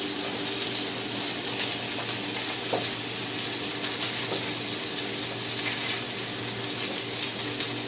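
Tap water runs steadily into a sink as a trimmed piece of onion is rinsed, a continuous close hiss and splash with no talking, for a pan-fried crumb-coated chicken breast recipe.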